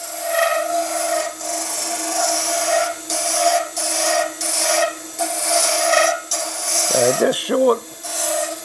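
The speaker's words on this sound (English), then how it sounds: "When I'm scraping, use it as a negative scrape." A turning tool scraping in negative mode across a spinning resin dragon's egg on a lathe, a steady rasping hiss with brief pauses between passes and a short burst of close talk near the end.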